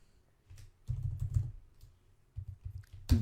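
Computer keyboard keys tapped in short bursts of clicks, close and fairly quiet, with pauses between groups of keystrokes.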